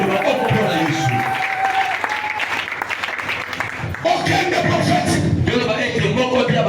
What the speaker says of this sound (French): Est-ce que tu peux faire du bruit pour Jésus? Acclame pour le Seigneur.